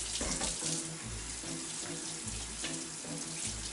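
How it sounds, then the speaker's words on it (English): Hands are washed under a running kitchen tap, a steady close splashing stream of water into a sink with small shifts as the hands move through it, with no talking. "I'm going to wash my hands."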